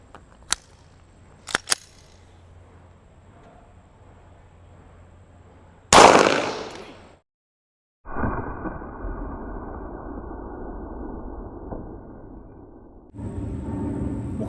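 Gunshots from a 9mm pistol loaded with Armscor full metal jacket rounds, fired at cheap Level IIIA 2.3mm body armor: a few sharp cracks, then one loud blast with a trailing decay, followed by sustained broadband noise.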